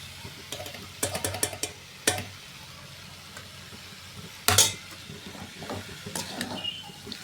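Beetroot rice being stirred in a pan at home, with intermittent scraping and clattering strokes of a spoon against the metal, a few sharper knocks standing out over a faint background.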